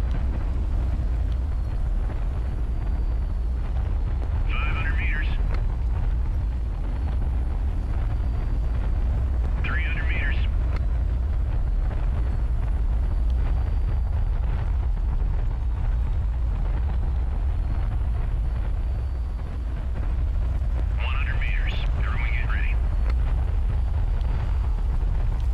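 In a video game, a massive aircraft with its fuel system on fire makes a hard landing while its reverse thrusters run. A deep, continuous roar rumbles throughout, and a few brief vocal bursts break in over it.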